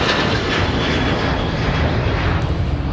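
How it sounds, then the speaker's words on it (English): An American Airlines Boeing 737-800 takes off at Minneapolis–Saint Paul airport, a steady broadband jet roar that stays loud and unbroken throughout, with no voices over it. "an aircraft taking off in the background is an American 737-800"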